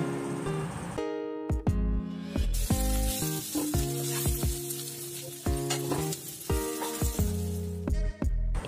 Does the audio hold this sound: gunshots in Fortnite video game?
no